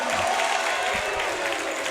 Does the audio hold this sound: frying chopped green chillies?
no